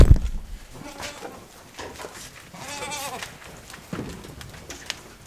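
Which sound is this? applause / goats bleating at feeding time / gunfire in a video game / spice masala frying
goats bleating at feeding time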